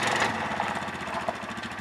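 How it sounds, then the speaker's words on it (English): A small four-wheeler engine chugs steadily nearby with a rapid, knocking rhythm at low speed while backing a boat into place. "backing the boat in place with our four-wheeler"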